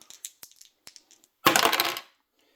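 Dice for a board wargame, a few light clicks and taps, then a burst of rolling clatter lasting about half a second, close and crisp, no talk.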